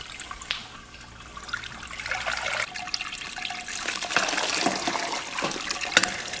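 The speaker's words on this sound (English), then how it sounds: "we're going to transfer wort out of the bottom and bring it back up into the top" Beer wort is drained from the bottom of a 3-in-1 all-grain brewing vessel and poured back into the top, giving continuous splashing, trickling liquid that grows louder and busier, with a few sharper clinks.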